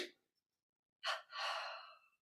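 A breath fading out, a pause, then two quick back-to-back inhales from a breathing exercise, each loud and close with no other sound around.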